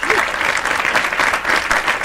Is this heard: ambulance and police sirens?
no